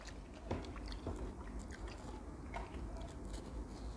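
A Rottweiler chews half a melon in faint, wet bites with a few sharper crunches, heard close but low under a steady background hiss.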